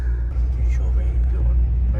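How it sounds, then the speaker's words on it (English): An Urban Automotive V8 Land Rover Defender 90 rumbles low and steady while driving with the sunroof open, its engine sitting beneath someone talking throughout. "So we've got the sunroof open now, just so we can hear those that V8 sound."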